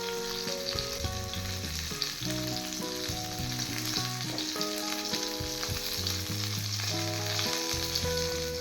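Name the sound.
koi fish frying in oil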